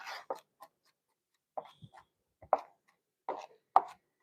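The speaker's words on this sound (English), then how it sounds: "Get this minced up. The fresh garlic works wonders in this dish" Fresh garlic being minced with a knife on a cutting board: a few sparse, crisp taps in short irregular bursts, close and alone with no talking.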